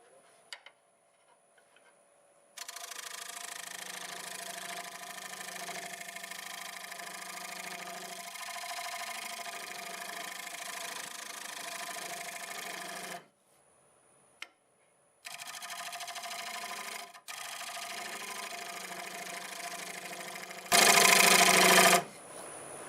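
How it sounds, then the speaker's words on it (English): Grinder sharpening a negative rake scraper for wood turning, a steady high whine running in long loud stretches with brief pauses between passes and a harsher, brighter burst near the end; no voices. "I'm going to sharpen up my negative rig scraper"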